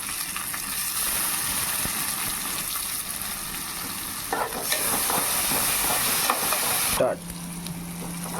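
Onion and tomato sizzling and frying steadily in a pan for a prawn curry, with a continuous close hiss and occasional stirring scrapes, the sizzle briefly intensifying near the end.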